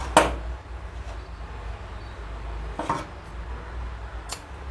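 Scissors snipping through blouse fabric, a few crisp cuts near and alone: one at the start, another near the three-second mark and a last snip at the end, over quiet room noise.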